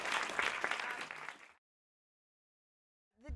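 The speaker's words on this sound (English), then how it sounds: "So please, let's give Claudia another round of applause." An audience gives artist Claudia Hart a round of applause: a full burst of clapping for about a second and a half, then sudden silence before a brief noise at the end.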